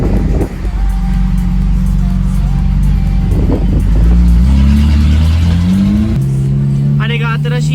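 A Subaru Sambar kei truck cruises a busy Texas highway amid heavy traffic and big pickups, its engine droning loud and steady with rising gear tones as it accelerates, wind and road roar throughout, a voice talking over it.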